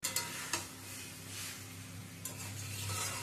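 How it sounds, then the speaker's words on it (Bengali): A utensil scrapes and stirs cauliflower with spices in a hot pan, producing soft intermittent scraping strokes over a quiet, steady sizzle, close and faint, with no talking. "সমস্ত ফুলকপি দিয়ে মশলার সাথে ভালো করে মিশিয়ে নেব"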